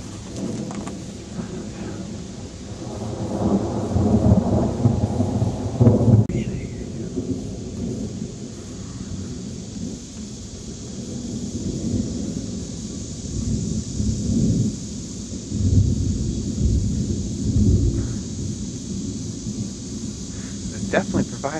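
Low rumbling thunder rolls through a severe thunderstorm with rain, swelling and fading over several seconds, with people talking now and then over the storm.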